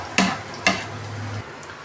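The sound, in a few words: garlic frying in a pan until golden brown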